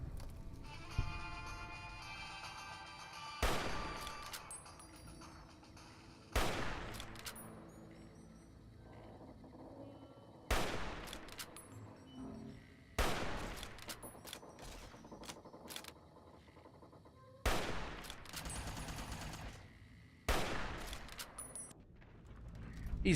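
Rifle gunfire in Fallout New Vegas, likely a varmint rifle: a series of loud, sharp single shots spaced a few seconds apart, each followed by a decaying ring, with quieter game sounds between.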